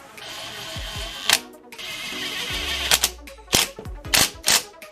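Lug nuts being threaded onto a wheel spacer on a car, heard as a run of sharp metallic clicks and clanks, several close taps bunched near the end, with no talking.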